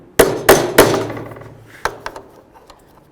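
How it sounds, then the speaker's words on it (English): Three sharp hammer strikes in quick succession drive a pin into a Jeep Liberty window regulator, then a pause and a few lighter taps, ringing metallically up close. "Grab our hammer."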